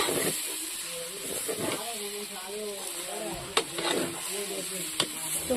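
Food fries in a pan over a village-style cooking fire with a steady sizzling hiss and occasional stirring clatter, while a voice talks over it nearby.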